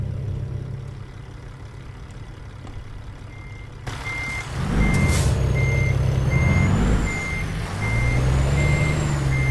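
Reversing beeps from a truck backing up in American Truck Simulator: a steady, evenly spaced series of high beeps over a low idling engine rumble, starting after a hiss like an air brake release.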